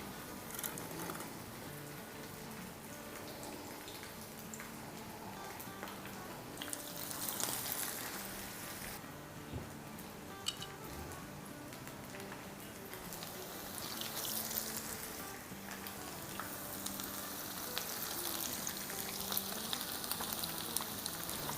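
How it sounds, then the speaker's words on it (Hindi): Masala chicken kababs on skewers frying in hot oil in a pan over a medium-low flame, a soft continuous crackling sizzle with occasional louder pattering bursts, no voices. "और इस चिकन को हम फ्राई करेंगे ऑलमोस्ट 6 मिनट के आसपास"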